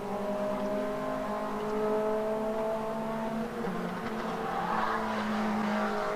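MG race cars heard trackside at Donington Park, engines droning loudly as several cars pass close by, with tires squealing and the pitch shifting as they go through.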